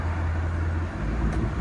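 A 2019 Dodge Durango R/T with a 5.7L HEMI V8 and rear muffler delete idles with a steady, deep rumble close by, swelling slightly louder at the very end.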